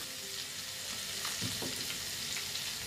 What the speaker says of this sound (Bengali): দিয়ে একটু একটু এটা ভেজে নিচ্ছি